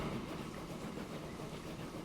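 Steady rolling rumble of an old British steam train in a railway management game, continuous and even with faint rail clatter, no talking.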